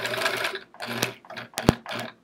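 A sewing machine with a walking foot stitches a chevron quilt in short bursts of rapid mechanical chatter, a few stops and starts over a couple of seconds, close and clear.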